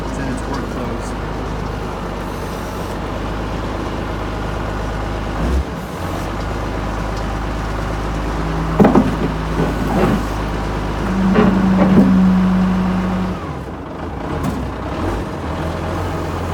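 A WA180 wheel loader's diesel engine rumbles steadily at close range while it lifts its bucket, swelling briefly louder partway through with some clanks and hisses over the low drone.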